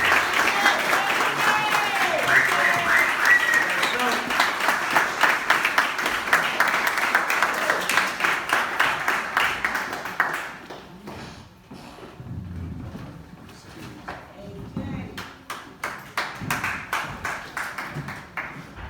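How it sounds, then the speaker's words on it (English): Sustained applause from a crowd at an acceptance speech for about ten seconds, then dying down into quieter scattered clapping and murmuring. "let's give a round of applause for my brother"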